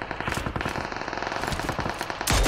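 Rapid automatic gunfire in PUBG Mobile, a dense, loud stream of shots across the whole stretch, ending in a heavier burst or blast right at the close.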